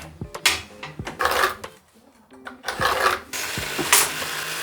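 Hand saw cutting slots into wooden table legs in a renovation workshop, a series of rasping strokes in uneven bursts separated by short pauses, close and fairly loud with no talking.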